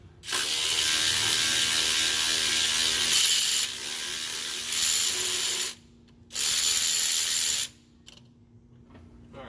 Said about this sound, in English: Just take these bolts out.